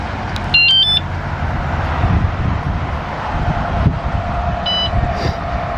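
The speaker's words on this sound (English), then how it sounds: "alarm" Short high electronic alarm beeps sound in a quick burst near the start and once more near the end, over steady wind noise outdoors at a beach state park.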